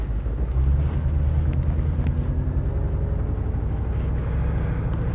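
Mercedes 280SE 3.5 W108 cruising with a steady low engine drone and road rumble, mixed with constant wind noise and no talking.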